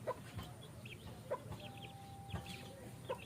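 Soft intermittent clucking from a very small chicken of the world's smallest breed, close by and fairly quiet, with several short bursts spaced irregularly across a few seconds.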